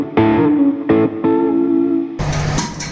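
A 62 Stratocaster reissue electric guitar runs into a distorted Peavey Bandit 112 amp, playing three sustained distorted chords with short gaps, then a thicker, brighter strum, loud and close.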